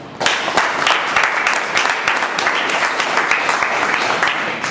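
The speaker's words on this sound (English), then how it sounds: "again a big round of applause" A room full of people applauds committee members at a meeting, loud, close and continuous clapping with sharp individual claps standing out from the dense mass.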